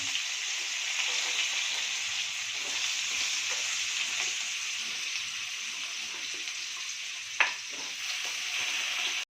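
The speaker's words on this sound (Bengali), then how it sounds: "এখন আমি কুমড়ো আর আলুটাকে ভেজে নিচ্ছি।" Potato and pumpkin pieces fry in hot oil for a mixed vegetable dish, giving a continuous even sizzle up close, with one sharp clink of a utensil near the end.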